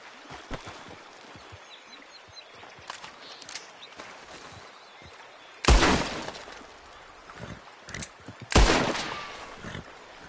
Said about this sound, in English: That lock should shoot off easy enough.